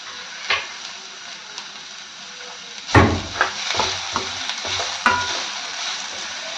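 Grated ginger and raw mango fry in a hot pan, a steady soft sizzle broken by sharp scrapes and clinks of a spoon stirring, close by with no talk.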